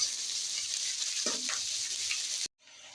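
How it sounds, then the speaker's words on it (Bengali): Chopped onion, garlic and green chilli frying in oil, a dense continuous sizzle close up with a couple of brief stirring clinks, ending in a sudden cut before softer sizzling resumes. "লাল করে পেঁয়াজ, রসুন আর কাঁচা লঙ্কাটা ভেজে নেব।"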